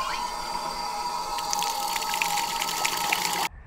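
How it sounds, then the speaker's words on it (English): Water runs steadily from a public drinking fountain opened by a knob, a close, continuous splashing flow with light dripping textures that cuts off abruptly near the end. "we've got one of these water fountain things which you just turn the knob"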